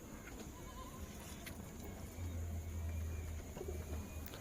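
Restless female pigeons brought home from the Uluberia market make faint, low cooing in a quiet room, with a steadier murmur swelling in the second half and no voices.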